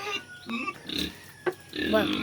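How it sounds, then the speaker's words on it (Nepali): Pigs on a farm grunt and squeal in short bursts, close by, mixed in among people talking over them. "सुँगुरहरू देख्न सक्नुहुन्छ त्यहाँ।"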